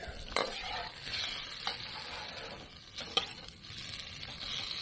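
Steady hiss of prawns frying in butter and garlic in a hot pan, with a few sharp clinks and stirring scrapes scattered over the frying noise.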